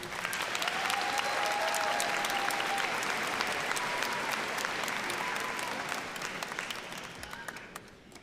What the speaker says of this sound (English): Let's give Emily a round of applause